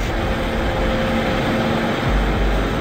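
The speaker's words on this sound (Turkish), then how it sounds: "kepçenin 3300 beygirlik motorunun sınırlarını zorluyor" A giant L2350 wheel loader with a 3300 hp engine revs hard on rocky mine ground, its loud, steady engine roar filling the recording with no pauses.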